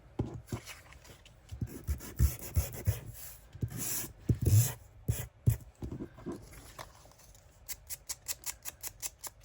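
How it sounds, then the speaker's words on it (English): A paper junk journal tab being sanded by hand: close, scratchy rubbing strokes in an uneven rhythm, then a quicker run of short regular scrapes, with no talking. "Give it a bit of a sand."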